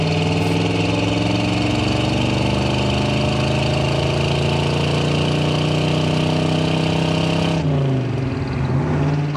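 A 1982 Chevrolet K10 truck with a 350 engine and 4-speed transmission drones loudly and steadily while driving, the engine note holding then dropping near the end as it shifts or slows.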